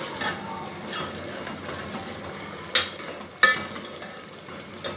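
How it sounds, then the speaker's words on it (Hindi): Masala for chicken karahi frying in oil in a pan, a soft, steady sizzle with occasional stirring clinks and scrapes, fairly quiet and with no voices. "मसाला भुनना शुरू हो गया है,"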